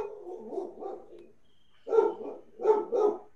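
A dog barks in the background of an online meeting: a low muffled bark, a pause, then a loud close bark and a quick double bark, with no one speaking over it.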